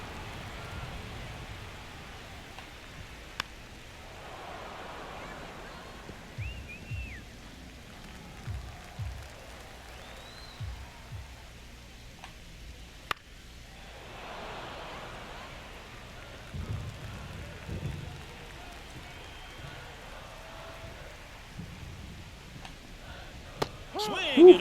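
Steady rain falling over an open baseball stadium in Los Angeles during a Mariners at Dodgers game, a soft continuous hiss heard at a distance beneath a commentator's voice.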